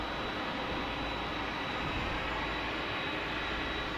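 British Airways Boeing 777 jet at San Diego airport, a steady loud roar of jet engines with a thin high whine, continuous and unchanging, with no voices.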